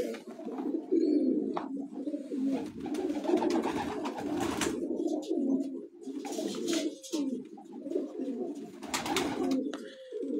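A flock of pigeons kept on a rooftop loft coos continuously, many overlapping throaty calls forming a dense, steady murmur close by, with scattered sharper flutters and noises above it.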